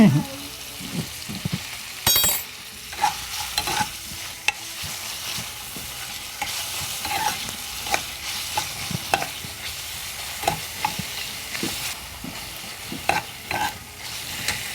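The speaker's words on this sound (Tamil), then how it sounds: "கொஞ்சம் இது வதங்கட்டும்." Ingredients sautéing in a kadai with salt, a continuous hiss of frying under frequent spatula scrapes and knocks against the pan, close by and without speech.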